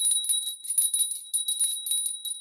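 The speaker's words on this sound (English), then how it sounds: "I'm going to ring a bell here" A small bell rings repeatedly in a bright, tinkling jingle, close and fairly loud, with a steady high ringing tone sustained beneath the shaken strikes and no voices.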